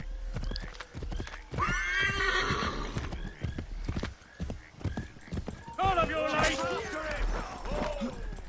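A horse in the video game Assassin's Creed III neighs and whinnies loudly twice, with hoofbeats clip-clopping throughout and a voice talking over parts of it.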